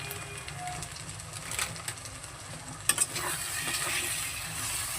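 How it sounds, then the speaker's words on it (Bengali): Spice masala with Kashmiri chili powder sautéed in a pan, giving a steady low sizzle with soft scraping from stirring and a few sharper clatters near the end; no one speaks. "এবার খুব সুন্দর করে কিন্তু মশলাটাকে আমি কষিয়ে নেব"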